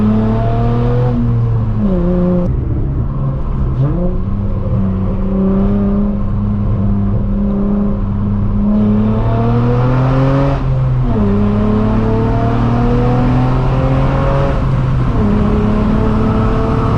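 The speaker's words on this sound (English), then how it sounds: "It's like my car don't want to stop accelerating." A tuned eighth-generation Honda Accord with a 3.5L V6 accelerates hard on back roads, its engine note climbing repeatedly through the gears with brief dips at each shift, loud and close from inside.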